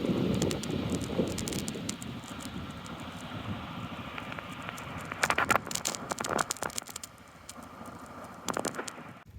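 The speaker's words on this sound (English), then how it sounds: "Despite the wind, we're chugging along here and just having a beauty of a fire." An outdoor campfire at a cabin crackles and pops in steady, irregular bursts, carried under a constant rush of wind buffeting the microphone, with sharper clusters of snaps near the middle and end.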